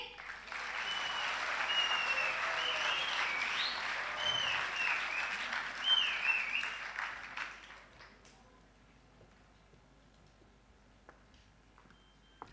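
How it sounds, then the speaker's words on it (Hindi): An audience claps loudly at a traffic police awards ceremony in Islamabad, steady applause lasting about eight seconds before fading into quiet room noise. "आपकी भरपूर तालियों में इस्तकबाल कीजिएगा लैला जुबैरी"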